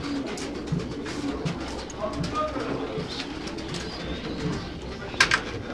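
Pigeons coo softly amid a busy, crowded background of voices and market bustle at a bird market in Ankara, Turkey, with a brief louder rustle near the end.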